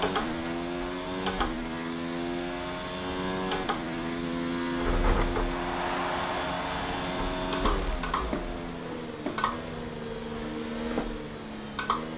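An F1 car in the F1 2019 racing game on a damp Shanghai circuit, its engine droning steadily with repeated sharp downshift blips and shifting revs throughout.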